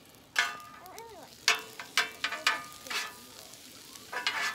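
Fried rice cooks on a hibachi grill: a run of sharp spatula scrapes and clanks comes in irregular bursts over a low, continuous sizzle, fairly close and moderately loud.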